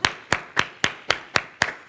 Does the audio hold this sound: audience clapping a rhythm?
yes